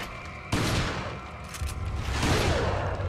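Shotgun blasts in Resident Evil 4 Remastered, a sudden loud boom followed by rumbling, echoing gunfire and explosive noise that swells again toward the end, close and dense.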